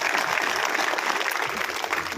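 A crowd at a BJP urban farmers' conference claps hard for the stage, a continuous, even roar of many hands lasting a couple of seconds with no break.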